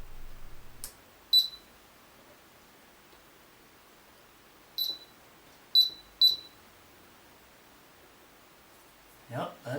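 A Hot Tools HT710 flat iron being switched on gives a handful of short, faint electronic beeps and clicks spaced apart, with a soft rustle near the end.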